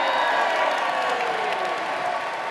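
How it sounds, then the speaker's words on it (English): An audience at a Conservative party leadership hustings cheers and applauds, a broad, steady wash of clapping and crowd noise that slowly fades over a few seconds. "Give yourselves a cheer."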